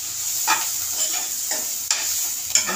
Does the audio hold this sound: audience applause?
no